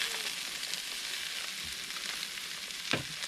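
Trout frying in oil with lemon juice in a pan at a camp cooking spot, a steady close hiss and crackle of sizzling fat with a few louder pops, no voices over it.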